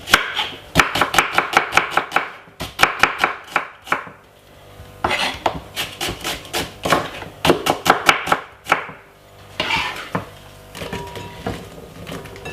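A medium-size red onion is chopped for a cucumber salad, the knife striking the board in quick, close, crisp bursts of rapid strokes broken by short pauses.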